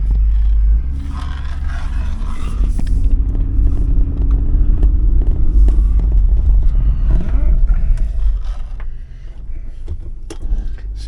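A 1999 Isuzu Trooper Bighorn with a 3.5L engine driving, a low, steady engine rumble heard from inside the cabin, with occasional rattles and scrapes over the drone.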